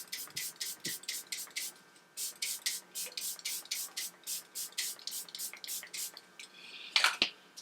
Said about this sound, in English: Now I'm going to spray with my Press Refresh by Shein.